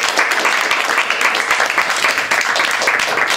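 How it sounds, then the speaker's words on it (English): An audience at a poetry reading claps steadily, dense broadband applause from a crowd that stays loud and even throughout with no voices standing out. "Let's give the poets another round of applause for the wonderful presentation."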